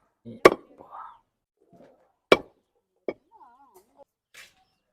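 Three sharp, isolated chops of a knife cutting through cleaned chicken on a board, spaced a second or so apart, with faint scraping and a few quiet voices in between.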